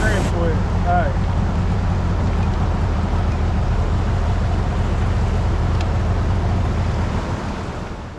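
A boat motor drones loudly and steadily on the water at a dam, a heavy low rumble with wash noise. A voice briefly speaks at the start before the engine noise carries on alone.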